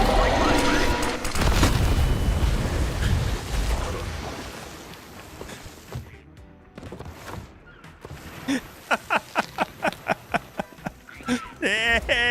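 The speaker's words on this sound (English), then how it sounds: "It's a flashbang right there." A flashbang grenade goes off in Star Citizen with a loud, sharp blast at the start, followed by a rumbling tail that fades away. A voice comes in later.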